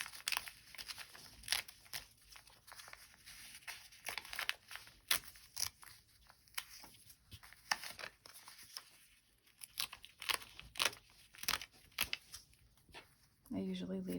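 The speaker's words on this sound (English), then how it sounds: "Carefully pull the papers out of the block." Paper foundation pieces are pulled and torn from a sewn quilt block, giving repeated close crinkling and tearing rustles in short bursts throughout, with brief pauses between pulls.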